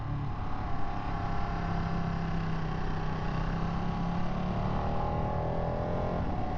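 A Ducati 959 Panigale motorcycle engine drones steadily as the bike rides through a corner, a continuous close, fairly loud engine note with slight pitch shifts and no break.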